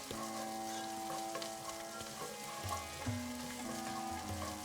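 Grated ginger hits golden fried onions in a pan for a paneer rajma curry, giving a steady, close sizzle and frying crackle with faint stirring underneath.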